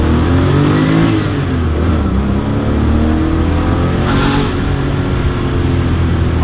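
A 1995 Porsche 911 993 C4 accelerating, its engine revving loudly and steadily from inside the car with rising and shifting engine tones and some wind noise, and no voices.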